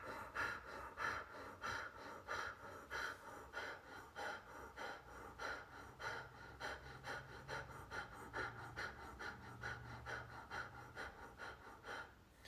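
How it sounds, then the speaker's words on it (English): Bhastrika bellows breathing: rapid, forceful inhales and exhales pumped in a steady, even rhythm through the nose, close and continuous for about twelve seconds, each breath a sharp rushing puff of air. "the technique called Bhastrika translates to bellows breath"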